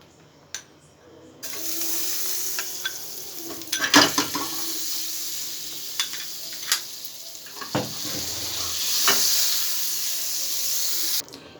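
Butter melts and sizzles in a pan on the stove as a base for semolina caramel, a steady close hiss broken by clinks and scraping knocks.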